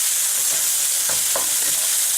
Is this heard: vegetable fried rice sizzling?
yes